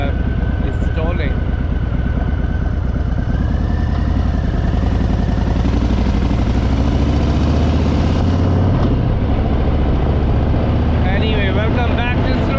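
A touring motorcycle's engine, which seems to be stalling, runs steadily up close while someone talks over it.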